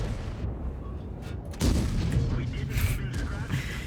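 A single heavy tank cannon shot from the 430 in the World of Tanks video game lands as a sudden, loud boom partway through, with rumbling battle noise and someone talking around it.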